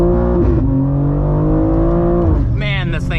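A tuned 720whp 2023 BMW M2 on Pilot Sport 4S tyres accelerates hard, its engine note climbing steadily and loudly before a shift, with a voice talking over the engine.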